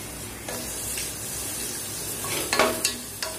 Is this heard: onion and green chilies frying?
yes